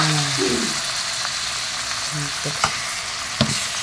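Chicken hamonado sizzles steadily in a pan as pineapple pieces are dropped in and stirred, a continuous frying hiss with a few soft clacks and scraping stirs toward the end.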